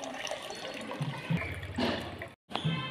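Water runs and splashes into a container in short gurgling bursts, close by, with a brief gap before the flow resumes.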